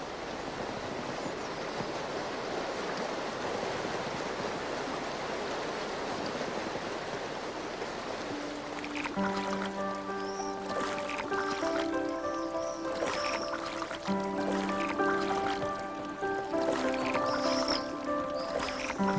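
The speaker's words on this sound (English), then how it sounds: "The river current does the hard work." A river current flowing past a canoe drifting downstream, a faint steady wash of moving water, later joined by sustained musical tones.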